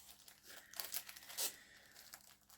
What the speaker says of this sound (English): That will definitely be being put back in the plastic bag